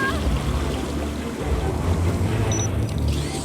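A machine in the video game Beyond a Steel Sky sprays water in a loud, continuous hissing rush over a low rumble.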